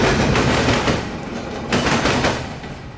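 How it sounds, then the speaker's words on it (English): A coal train with a distributed power locomotive on its end rolls past in Plant City, Florida, a steady broadband rumble of rail cars with faint rhythmic clatter, fairly loud and close, easing slightly toward the end. "the coal train happened to have a distributed power locomotive on the end of the train"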